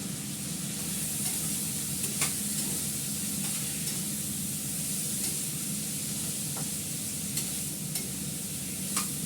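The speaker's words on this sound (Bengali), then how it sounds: "এবার ভালো করে এটাকে কষাবো।" Spiced food being kosha-fried in a kadai with turmeric, giving a continuous close sizzle with occasional faint clicks of a spatula against the pan and no voices.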